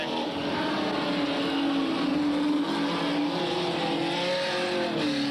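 Super stock race cars lap a one-third-mile oval in 1993, their engines holding a loud, continuous droning roar that shifts gently in pitch as they pass, with no break or pause.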